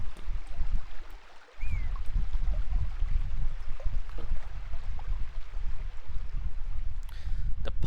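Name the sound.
river sound in Steve Jackson's Sorcery! video game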